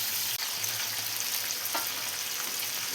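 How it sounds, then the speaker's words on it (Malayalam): Chicken pieces for chicken rolls frying in a pan, giving a steady, loud, close sizzle with no voices. "ഇപ്പോൾ ചിക്കനെല്ലാം വെച്ച് കൊടുത്തിട്ടുണ്ട്. ഇനി ഇത് ഒരു സൈഡൊന്ന് മുരിഞ്ഞ് വരുന്നവരെ നമുക്ക് വെയിറ്റ് ചെയ്യാം."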